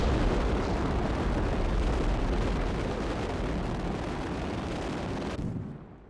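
A rocket engine fires in Kerbal Space Program, modded with RP-1, Realism Overhaul and Real Solar System, on a lunar impactor mission. It gives a loud, steady, close roar that holds, then cuts off sharply just before the end.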